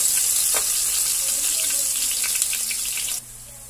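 Garlic frying in a pan for pancit canton gives a steady, close hiss of sizzling oil with faint crackles, continuous until it cuts down sharply near the end.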